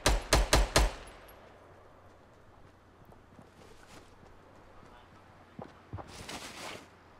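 Fortnite Battle Royale gunfire, a rapid burst of about four loud close shots at the start, then quieter distant pops and footsteps later, with voices talking over the game.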